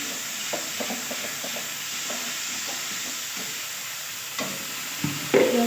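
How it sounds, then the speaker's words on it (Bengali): Spices, salt, turmeric, chilli powder and a whole small tomato fried with a splash of water and stirred for a rohu fish ball curry, with a soft steady sizzle and scattered spoon scrapes and clinks, louder knocks near the end. "হালকা জল দিয়ে ভালো করে কষিয়ে নেব"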